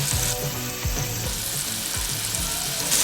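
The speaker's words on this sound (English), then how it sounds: "On high heat, add olive oil to skillet or pan. In goes our shrimp." Shrimp sizzle steadily in olive oil in a skillet over high heat, a continuous crackling fry with a few soft stirring clunks, close and loud with no talking.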